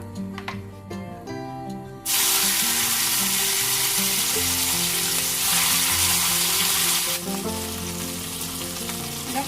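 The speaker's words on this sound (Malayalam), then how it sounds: "ഇതിലേക്ക് കുറച്ച് വെളിച്ചെണ്ണ കൂടി ഒഴിച്ചു കൊടുക്കാം. ബാക്കിയുള്ളതും കൂടെ ഫ്രൈ ചെയ്തെടുക്കണം." Quail pieces frying in coconut oil for a Kerala kaada roast: after a quieter start, a loud, dense, continuous sizzle erupts close by and holds steady, with a tonal hum underneath.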